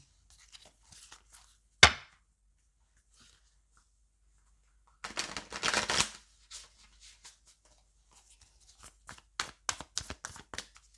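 Tarot cards are handled and shuffled at a quiet table: one sharp snap, then a riffling burst, followed by scattered soft taps and slides as cards are drawn, close and faint.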